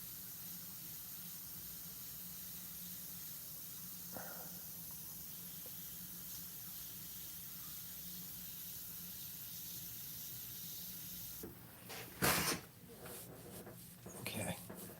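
Airbrush hissing out Createx paint onto Blair synthetic paper, a soft steady spray under quiet room tone, followed by louder bursts near the end.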